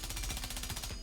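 Rapid automatic fire from a suppressed weapon in Rainbow Six Siege, a steady, fast stream of muffled shots lasting about a second.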